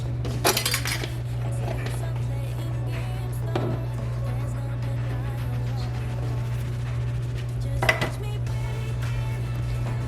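A metal quarter-teaspoon measuring spoon clinks against a container as spices are added, with a few bright taps spread over a steady low hum, close and clear.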